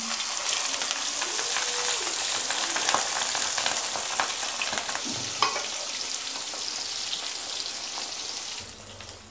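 Fish sizzling on a hot tawa, a loud dense crackle of frying oil with scattered pops and spatter, steady for most of the stretch before dropping off near the end.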